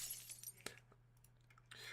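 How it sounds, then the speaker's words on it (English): A liquor glass shatters in the Nikke video game, a single sharp crash near the start with scattered tinkling afterward, set over a steady low hum and quiet background sounds. "A liquor glass lands next to the girl and shatters"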